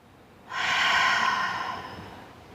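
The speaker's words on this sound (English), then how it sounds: "Breathe in." One slow, steady inhale through the nose during a guided breathing exercise, close and clear, swelling quickly and then tapering off over about two seconds in a quiet room.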